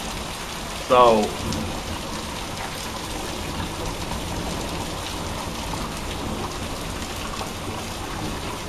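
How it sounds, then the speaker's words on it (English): Steady rain pours down from a severe thunderstorm producing a little hail in Tornado Alley, a dense continuous wash of falling water with a brief word spoken near the start. "Now we got this severe thunderstorm what's rolling through and producing a little bit of hail here."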